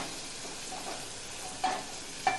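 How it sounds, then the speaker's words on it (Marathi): Tomato and grated coconut fry in hot oil for a toor dal amti, giving a soft steady sizzle with a couple of brief louder crackles. "आता टोमॅटो आणि ते खोबरं जरा आपण चांगलं भाजू देऊया तेलामध्ये"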